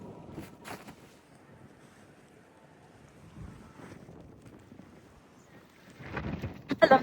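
Strong wind gusting outdoors on a cold, snowy day in the Netherlands, heard as rumbling microphone buffeting that swells in a burst near the start and grows louder and rougher toward the end.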